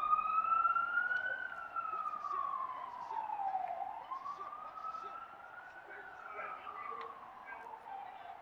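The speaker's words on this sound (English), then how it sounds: "As a ambulance, cop car, some type of vehicle is passing by that is very annoying." An emergency vehicle siren, ambulance or police car, passes by outside, its wail rising and falling slowly at moderate volume over steady background noise for the full stretch.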